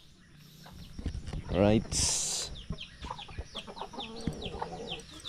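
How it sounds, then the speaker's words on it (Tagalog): Native chickens on a farm cluck and call in quick irregular bursts close by, with one louder squawk, while someone speaks briefly over them. "Native chicken."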